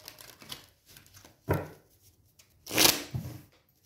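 A tarot card is laid down on a table in a few soft, brief taps and shuffling slides, with one sharper papery slap standing out near the end.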